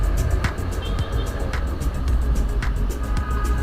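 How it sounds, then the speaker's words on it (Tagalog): Evening road traffic on EDSA heard from a moving motorcycle, a loud continuous rumble of engines and wind with recurring sharp ticks and passing vehicles blending together. "Heavy traffic to moderate traffic."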